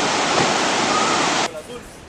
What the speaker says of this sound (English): this is Costa Rican beach